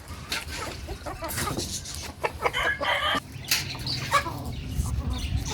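Several hens on a farm cluck and squawk close by with bursts of wing flapping, a steady busy flock sound with occasional louder calls.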